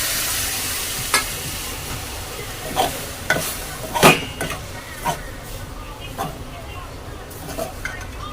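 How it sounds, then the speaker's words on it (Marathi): Grated coconut roasting with milk in a pan for coconut laddu: irregular scraping and clinking stir strokes, some sharp and close, over a steady sizzling hiss. "दूध थोडं चांगलं भा हे करून घेते व्यवस्थित थोडंसं भाजून घेते"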